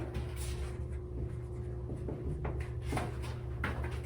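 Pen or marker strokes scratch across a surface as a geology diagram of the mantle is drawn, a series of short close squeaks and scrapes over a steady low hum.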